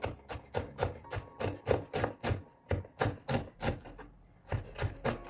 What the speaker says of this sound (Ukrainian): Так, ми дуже дрібно це все нарізаємо.